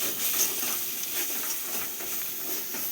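Spiced meat with chilli and cumin powder sizzling in a pan as it is stirred, a steady close hiss and crackle with faint scraping, no talking.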